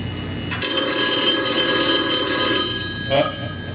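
A telephone rings during a speech at a celebration-of-life gathering, a steady electronic ring that sounds loud and close for about three seconds before cutting off, with no talking over it.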